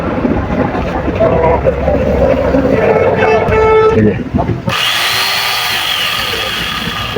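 A grinding machine salvaged from an old ship runs loudly and steadily at a scrapyard in Bhatiary, Sitakunda, with a shift in pitch midway and people talking nearby.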